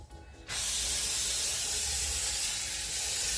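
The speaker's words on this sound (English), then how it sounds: "I have some olive oil." Olive oil sprayed onto a grill for chicken burgers, a steady loud hiss that starts abruptly after a brief quiet moment and runs continuously to the end.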